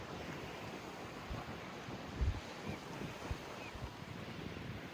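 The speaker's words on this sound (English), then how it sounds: "It's pretty windy" Wind buffets a beach at sunrise with rushing, low rumbling gusts and microphone buffeting, while small waves wash in softly underneath and a few louder thumps break through.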